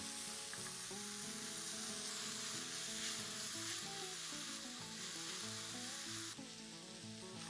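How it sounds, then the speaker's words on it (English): Chopped tomatoes and cooked onions sizzle in a pan over a low flame for a mixed vegetable sabzi, a steady close frying hiss heard alone with soft stirring, while background music plays. "Time to add in the tomatoes and stir this on low flame."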